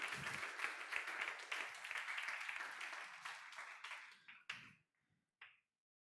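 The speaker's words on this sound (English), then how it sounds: "maybe we give the jury an applause to make them even more happy to start their job" An audience applauds the jury at the IoT meets AI 2019 student challenge event: dense, steady clapping for about four seconds, thinning to a few scattered claps before falling silent.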